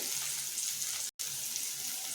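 Chopped shallots and three halved green chilies sauté in hot oil for a spicy prawn gravy, giving a steady, close sizzle with no talk and one brief dropout near the middle.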